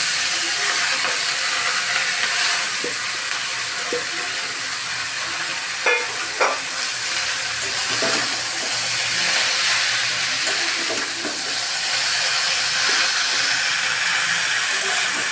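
Chopped garlic and purnima greens frying in a pan with a steady, loud sizzle and hiss, broken by occasional stirring clinks and scrapes, with no talk.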